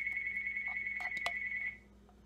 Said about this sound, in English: this would not be a video if my phone did not ring.